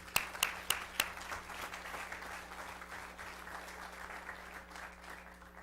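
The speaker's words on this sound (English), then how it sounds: "So help me give a round of applause for Fletcher Dickert" Applause for a retiring city councilman at a North Augusta city council meeting: a few sharp claps at first, then steady moderate clapping from a small audience in a room with a low hum, no talk over it.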